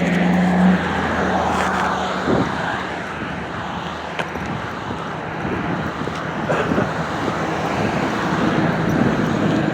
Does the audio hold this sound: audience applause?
no